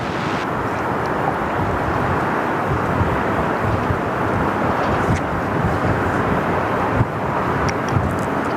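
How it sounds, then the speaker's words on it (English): A Jetstar airliner lands on runway 34 left at Sydney Airport, a loud steady roar of jet engines with wind buffeting the microphone, sustained throughout without voices. "So Jetstar just dropping in on runway 34 left."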